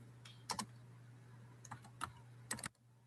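Short bursts of typing on a computer keyboard while entering a medical literature search, a few quick clustered keystrokes spaced apart over a steady low hum, with no talking.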